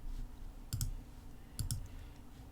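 Keyboard presses for a Shift+A shortcut in Figma, two quick pairs of crisp clicks close to the mic over a faint steady room hiss.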